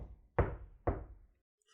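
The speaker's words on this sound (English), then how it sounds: "she went and banged on the door of the mausoleum" Two heavy, hollow thuds land about half a second apart, each with a short booming decay, as a fist bangs on the door of a stone mausoleum; nothing else is heard.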